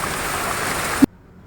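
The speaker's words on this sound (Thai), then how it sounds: "ตอนนี้ฝนตกก็แต่ละต้นก็จะมีความชุ่มฉ่ำนะคะ" Rain falls steadily on leafy potted aglaonema plants in a garden, a dense even hiss that cuts off abruptly after about a second, leaving near silence.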